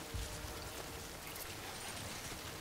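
Steady rain falling in the video game Death Stranding, a dense, even hiss of drops spattering on surfaces, with a slightly heavier patter at the start and no voices.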